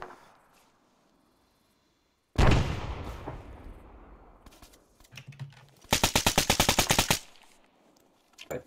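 Gunfire in an SCP video game: a loud burst of shots rings out and decays, then a rapid automatic volley rattles at close range before stopping.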